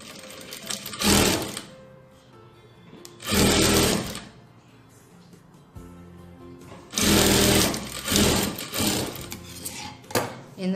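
Sewing machine stitching blouse fabric, running in several separate bursts of rapid mechanical whirring with quieter pauses between them, close and alone with no talk.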